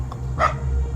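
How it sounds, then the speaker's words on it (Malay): A single short dog bark rings out midway, sharp and fairly close, over a low steady rumble of background noise with no voices. "kami terdengar suara anjing menyalak."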